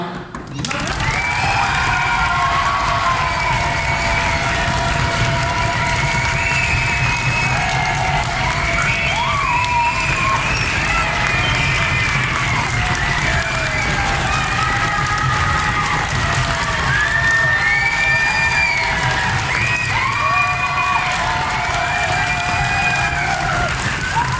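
A crowd at a radio station inauguration event cheers and shouts after a countdown, a sustained loud roar of many voices with whoops and children's shrieks throughout.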